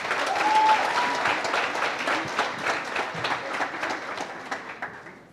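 An audience at a township business workshop in Katlehong applauds, a dense burst of clapping that starts loud and slowly thins out over several seconds.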